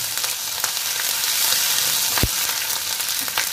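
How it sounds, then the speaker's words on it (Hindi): Ginger frying in hot oil in a pan, a loud, continuous sizzling hiss with a few faint spoon taps and one sharper knock midway. "अदरक को भी ज़्यादा नहीं भूनना है,"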